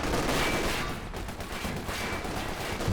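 Bren light machine guns fire in Company of Heroes 2, a dense, continuous stream of distant gunfire and battle noise rolling on for several seconds without pause.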